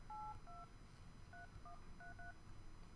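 A phone is dialed with a quick sequence of touch-tone beeps: two early tones, then a cluster of four or five more in irregular rhythm, faint over a low background hiss.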